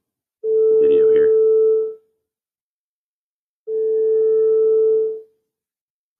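Steady pure tone from two in-phase speakers, heard as two sustained bursts of about one and a half seconds each, separated by silence, loud and alone, with interference making the level rise and fall.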